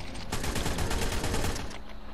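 Rapid gunfire rattles in a dinosaur video game, a dense run of loud, closely spaced shots that fades out near the end, with no voices.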